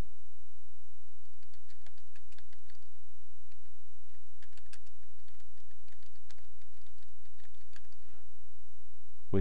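Fast, steady typing on a computer keyboard, with dense soft key clicks in bursts, close and fairly quiet over a faint electrical hum, then a short pause near the end.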